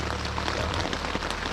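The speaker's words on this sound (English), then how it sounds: "as you can hear, the rain is just coming down" Heavy rain pours steadily onto a campsite at F.D.R. State Park, a dense, continuous patter of drops drumming on nearby surfaces with a low, constant hiss underneath.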